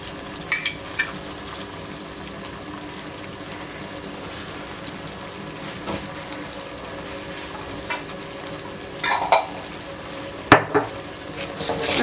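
Chili chickpea masala with pizza sauce gets stirred in a pan over a steady background sizzle, with a handful of brief spoon knocks and scrapes, the loudest toward the end.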